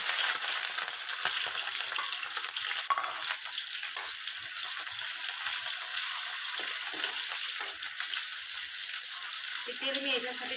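Onion and cumin fry in hot oil, giving a loud, continuous sizzling hiss that holds steady for the whole stretch, heard up close.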